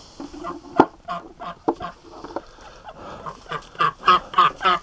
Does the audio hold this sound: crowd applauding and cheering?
no